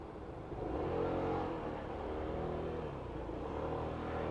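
A car passes close by on a road, its engine swelling to a peak in the first second and a half, then settling into a steady fading drone.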